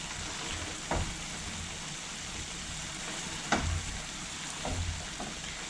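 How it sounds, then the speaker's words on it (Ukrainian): Pumpkin cream soup with vegetables and meatballs bubbles steadily in a pot, a soft, even simmer with a few quiet clinks now and then. "Минуло півгодини, як киплять наші овочі та фрикадельки."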